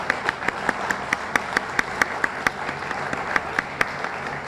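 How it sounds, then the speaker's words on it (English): An outdoor audience at a groundbreaking ceremony applauds, with sharp, distinct claps in a fairly sparse, rhythmic pattern standing out over a quiet background. "I want to give her a round of applause"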